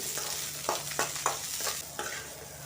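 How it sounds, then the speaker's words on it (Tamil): Onions sautéing in hot oil with popped mustard seeds in a pan, a steady close sizzle with a few louder crackles and pops scattered through, no voices. "ஆனியன் சேர்த்து நல்லா வதக்கி விட்டுடுங்க."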